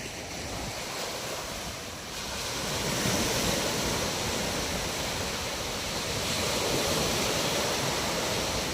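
Sea waves wash steadily onto a Sri Lankan shore, a continuous close surf roar that swells slightly partway through, with no voices.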